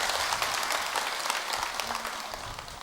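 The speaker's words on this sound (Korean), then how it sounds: "비한테 우리 박수 한번 칩시다." Congregation applauding during a Buddhist Sunday dharma service at Jogyesa temple, a dense crowd of hands clapping steadily, strong at first and slowly tapering, with no voices over it.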